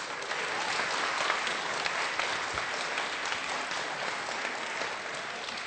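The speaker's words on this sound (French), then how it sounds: "On peut applaudir Anaël, s'il vous plaît" Children applaud together in a room, a dense, sustained patter of many small hands clapping at steady loudness for several seconds, with no talking over it.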